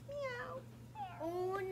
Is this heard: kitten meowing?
yes